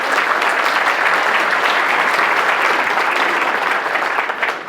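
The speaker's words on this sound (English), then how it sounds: "Let's give him a nice round of applause." A crowd at a State of the City address in Deer Park claps together in a loud, full round of applause that stays dense and even before thinning slightly at the end.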